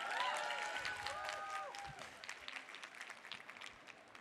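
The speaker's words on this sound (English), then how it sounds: "So give them a huge round of applause." A conference audience at Collision 2022 applauds, the clapping fairly quiet and distant and thinning out over a few seconds, with faint tonal sounds and voices mixed in at the start.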